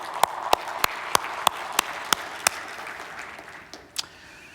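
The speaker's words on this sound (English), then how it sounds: "So we have a round of applause for our Sons of Liberty." A round of applause from an audience at an event comes through as a sparse run of sharp, evenly spaced claps that thins out and fades, with a last couple of scattered claps near the end.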